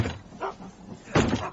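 A police constable forces a door open in a radio drama, heard as two heavy bursts: a brief thud early on, then a louder, broader crash near the end, with muffled room noise between.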